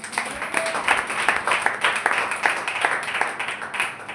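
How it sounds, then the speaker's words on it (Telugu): A congregation at an all-night church prayer meeting claps together in steady, continuous, moderately loud applause. "చప్పట్లు కొడదాం."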